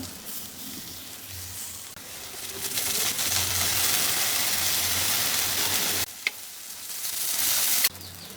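Crisp banana flower frying in oil in a pan, a dense steady sizzle that swells louder midway with a couple of brief breaks.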